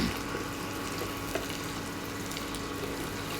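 Mixed saag fries in a pan while being stirred, a dense, even sizzling hiss with a faint clink near the middle, steady and close, with no voices.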